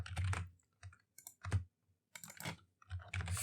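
Code is typed on a computer keyboard in short quick bursts of clicking keystrokes, close and clear, with brief pauses between runs.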